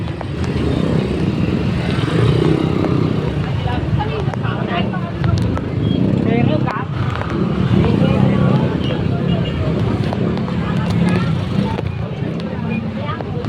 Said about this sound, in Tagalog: Sobrang traffic na.